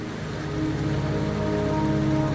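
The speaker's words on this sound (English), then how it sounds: "the rain won't last much longer" Steady rain falls in the fantasy video game Wuthering Waves, a continuous even hiss with low ambient hum beneath, swelling slightly after the first half second and holding constant without any voices.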